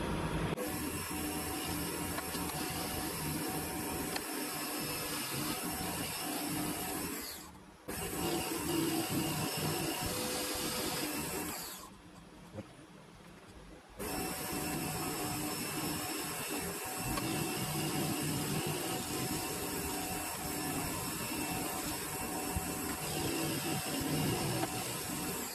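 A metal lathe undercuts a workpiece held on a homemade ER32 collet chuck spin indexer, giving a loud, steady broadband whir that drops away briefly twice before resuming.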